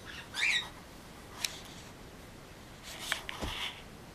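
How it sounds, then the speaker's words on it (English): A pet bird squawks indoors in a home, giving a few short, sharp calls spaced across a quiet room, moderately close and alone without talk. "And one of the birds is talking over there."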